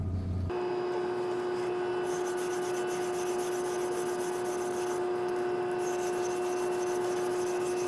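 A knife blade is honed on a Naniwa traditional water stone, giving a steady, continuous abrasive rubbing and rasping that carries on for the whole stretch alongside a constant tonal hum, with no talking.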